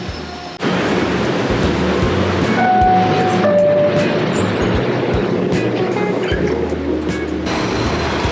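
Steady rumbling of a moving train in New York City fills the clip, with continuous broadband rail noise and a brief faint tone partway through.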